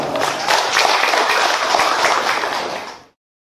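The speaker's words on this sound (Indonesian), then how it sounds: "Tepuk tangan untuk kita semua." An audience at a religious lecture applauding, a dense, loud wash of clapping that holds steady for about three seconds and then stops abruptly.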